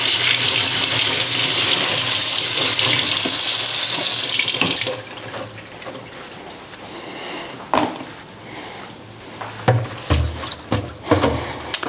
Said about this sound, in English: then I'm gonna wash my tomatoes